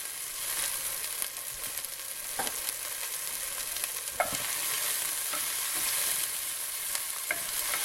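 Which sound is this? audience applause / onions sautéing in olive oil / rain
onions sautéing in olive oil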